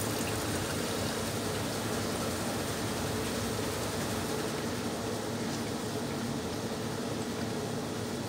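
Raw watermelon juice is poured into a container, making a soft, steady liquid hiss that stays even and fairly faint throughout.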